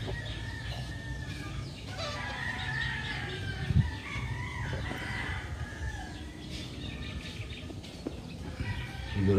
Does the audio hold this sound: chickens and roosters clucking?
yes